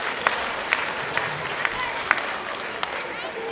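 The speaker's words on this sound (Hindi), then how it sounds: "तो एक बार जोरदार तालियां" Audience at a Ram Leela show in a Hindu temple hall in Edmonton, Alberta, clapping in a moderate, fairly distant round of applause with scattered sharp individual claps, continuing steadily.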